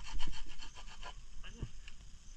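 A hand saw cutting through wood on a work site, a rapid back-and-forth rasp of about a dozen strokes, close by, with faint voices in the background.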